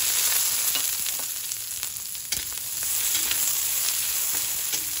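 Onion sautéing in a small amount of oil in a pan for a Filipino stir-fried cabbage dish, giving a steady, close, continuous sizzle and crackle with occasional louder pops, no voices.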